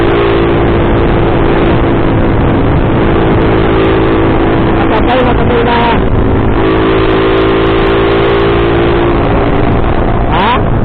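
A motorcycle engine, freshly rejetted at the carburetor, runs loud and close with a steady droning idle, then rises in a few short revs toward the end; a voice speaks briefly over the engine.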